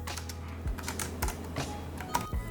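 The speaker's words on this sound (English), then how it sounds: "There's Bluetooth keyboard and mouse support as well, so typing and web browsing is just a breeze." Typing on a Bluetooth keyboard paired with a Blackview Tab 12 Pro tablet, with a close, steady run of soft key clicks and occasional heavier thumps, no voices.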